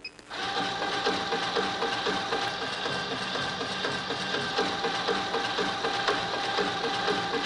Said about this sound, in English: The remote raises and lowers the sickle cutter. And it also engages the sickle cutter.